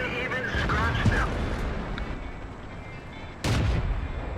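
Tank cannon shots in World of Tanks: heavy booming blasts, one early and another loud report near the end, over rumbling battle noise while someone commentates.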